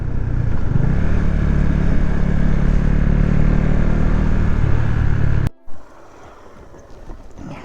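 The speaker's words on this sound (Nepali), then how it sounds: "यस्तो हरियालीमा बाइक चलाउन यति मजा आइरहेछ" A KTM Duke 390 motorcycle rides along a green rural road toward Markhu, its engine drone mixed with heavy wind rush for several seconds before the noise abruptly cuts to quieter ambience.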